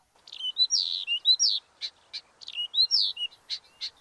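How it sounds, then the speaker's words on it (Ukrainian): A nightingale sings a lively run of clear whistles, sweeping notes and short chirps, bright and fairly close, with no other sound around it. "Чуєте, як гарно співає соловейка на весні?"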